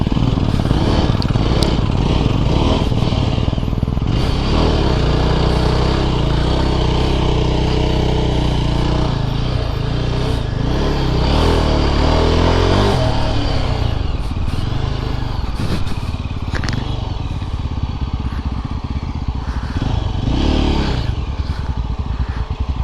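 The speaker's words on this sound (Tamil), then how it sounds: "இன்னைக்கு பீச்சில் ஓட்டுறான்டா வண்டியை." Motorbike ridden through soft sand on a beach, its engine loud and close, revving and labouring in uneven surges with some clatter over about twenty seconds.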